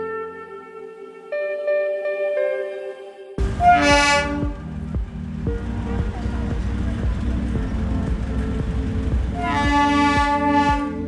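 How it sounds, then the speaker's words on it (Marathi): Darjeeling toy train at a station, a two-tone horn sounding repeatedly at close range amid crowd chatter and the rumble of the arriving train. "आता ट्रेन येईल थोड्या टायमाने."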